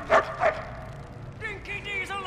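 In Mad Max, Dinki-Di the dog yips twice in quick succession, close and bright, then a voice speaks briefly over quiet game ambience.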